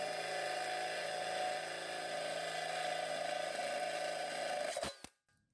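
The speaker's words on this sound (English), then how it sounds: "Now the drill bit should just go straight in." A power drill bit bores through a tin can below its label, a steady high whirring grind held for nearly five seconds that ends in a couple of sharp clicks as the bit breaks through and the drill stops.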